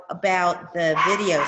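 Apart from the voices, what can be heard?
dog barking in the background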